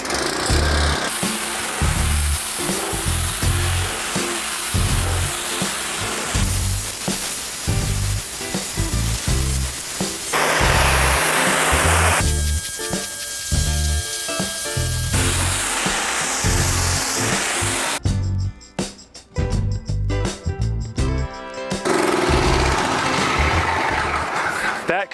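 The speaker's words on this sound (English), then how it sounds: "That concludes the pressure washing of the brick." A pressure washer cleaning the exterior brick wall of a 1930s cottage, a loud continuous hiss and spray that shifts in tone as the nozzle moves, with brief cutouts near the end.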